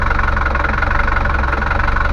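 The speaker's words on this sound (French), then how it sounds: "Et le moteur il tourne comme une horloge." A Bavaria 38 sailboat's engine idles at a steady, even rumble, loud and close, with no pauses or talk.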